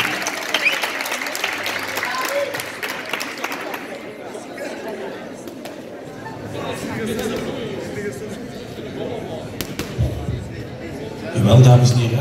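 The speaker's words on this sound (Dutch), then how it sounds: "dames en heren, geef ze een applaus" Guests at a municipal election reception in Heusden-Zolder applaud visiting gym members, strong clapping that thins into crowd chatter and voices, with a few scattered claps and a thud near the end.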